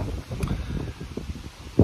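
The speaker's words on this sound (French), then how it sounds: "il y a beaucoup de vent" Strong outdoor wind buffets the microphone on a hike, producing a continuous low, rumbling roar with gusty swells and no speech.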